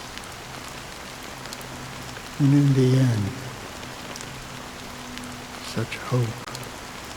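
Steady video-game rain patters on a surface throughout, under a brief low musical swell and a voice speaking.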